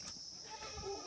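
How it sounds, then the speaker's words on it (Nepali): Goats bleating at a hillside farmhouse in Panchthar, Nepal, a short call or two heard at moderate distance over faint outdoor background. "ऊ बाख्राहरू पनि छ त"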